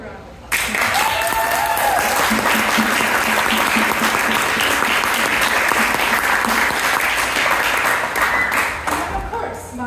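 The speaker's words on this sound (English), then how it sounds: "Give her a round of applause." Audience applause at a senior music recital, loud and sustained from a full crowd of clapping hands, starting abruptly and holding steady for nearly ten seconds before easing slightly at the end.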